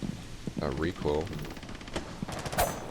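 SMG-12 submachine gun fire rattles in a video game, a quick run of sharp rapid shots with a few scattered single cracks, fairly faint behind a talking voice.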